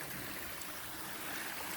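A creek in Kentucky's Red River Gorge flows beside a campsite in an evergreen valley, a steady close hiss of running water, even and continuous with no voices.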